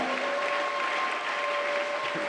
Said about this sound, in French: Nous l'acclamons très fort.